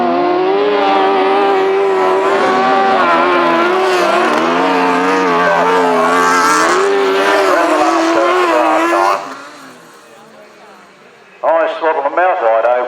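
Grasstrack racing motorcycles on the last lap roar loudly in a continuous close engine drone, fading sharply before another burst returns, with an announcer talking over it.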